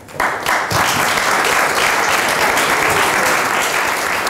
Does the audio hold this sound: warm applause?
yes